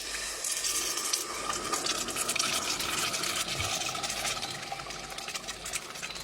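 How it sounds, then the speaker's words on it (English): Hot water pours steadily into a pot of potatoes for a sugar bean curry, making a continuous splashing, hissing flow that stays even and close for several seconds with no talking. "so to this I'm going to add in some hot water."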